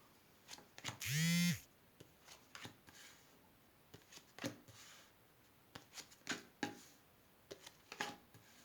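Tarot cards are shuffled for a reading in a quiet room: soft, close, irregular flicks and riffles recur every second or so, with one brief louder ringing swoop near the start.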